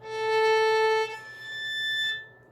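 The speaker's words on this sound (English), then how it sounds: "today we're going to talk about artificial harmonics" Two clear, bell-like artificial harmonics ring out one after the other on a string instrument. Each note rings in isolation and then fades.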